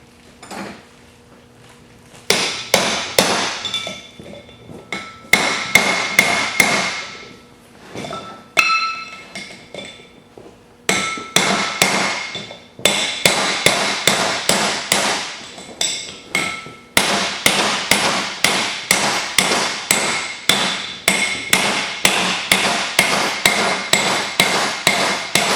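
Sharp metallic hammer strikes driving a wheel bearing race into place, a few scattered then a long fast run of ringing blows, close and loud.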